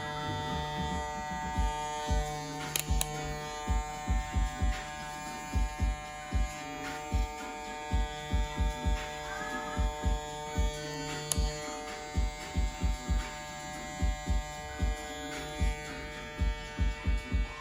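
A Gamma X-Ergo hair clipper cutting blurry fades, giving a constant close electric buzz with a steady mains-like hum, broken by regular rhythmic clicks or taps about every second, no speech.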